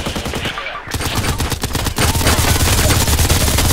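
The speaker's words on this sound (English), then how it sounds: "My goodness, some shooting going on." Rapid automatic gunfire in the video game Contract Wars, loud close bursts of shots in a steady rattling rhythm, intensifying after a brief gap.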